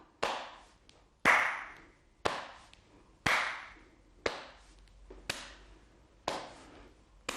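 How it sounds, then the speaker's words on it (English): A chair-exercise warm-up class taps and claps in rhythm, with about eight sharp percussive hits spaced roughly a second apart, each ringing briefly before the next, fairly clear and close. "And tap and clap."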